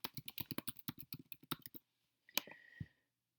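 Quick, close keyboard typing: about a dozen crisp key clicks in a rapid burst, a short pause, then two or three louder, isolated keystrokes, with no voice.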